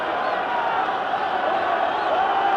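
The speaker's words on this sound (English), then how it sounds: "And the crowd really getting excited now" A crowd at a 1968 rugby test match between Argentina B and a Welsh XV roars in a steady, continuous swell of cheering, with distant voices blending into a broad wash of excitement.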